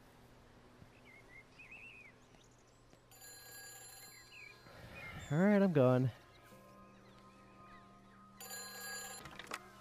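A telephone rings in a phone booth in the video game Everybody's Gone to the Rapture, with steady repeating ring bursts at moderate volume and a voice talking near the middle.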